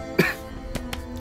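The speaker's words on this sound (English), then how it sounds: "I'm gonna cough." A young man gives a single short cough, close and fairly soft, followed by a few faint breathy catches against a quiet hum.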